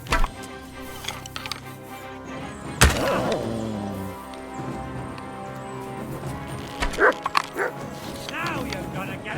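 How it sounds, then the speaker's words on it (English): Dog barking and whimpering during a fight in the video game Kingdom Come: Deliverance II, with sharp close barks, a loud crash, then yips and whines mixed with combat clatter and speech. "That dog wants to eat me!"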